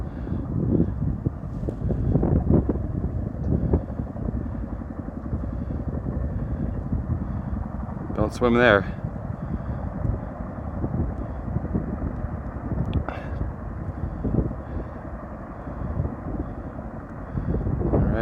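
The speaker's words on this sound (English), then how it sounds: "Look at the helicopter." A firefighting helicopter carrying a water bag thrums steadily overhead above Lake Tahoe near Incline Village, a continuous far rotor drone under wind, with brief voices in the foreground.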